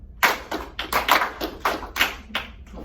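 Classroom students clap in groups, sharp distinct claps in a steady rhythmic pattern, about eight close, fairly loud hits with brief gaps between them, with no talking over them.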